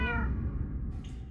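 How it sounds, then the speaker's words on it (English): A cat in the Minecraft Story Mode video game gives one clear, drawn-out meow, close and alone. "Ayo, Winslow's cat."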